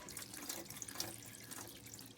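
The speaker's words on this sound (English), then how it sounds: "make sure you use cold water for this. Put your kefir grains under the water" Cold tap water runs over kefir grains in a sink, a soft continuous splashing stream with light trickles, fairly quiet and with nothing else heard.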